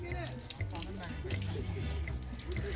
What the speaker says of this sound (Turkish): Önce bacaklarını yıkayalım Emir'in.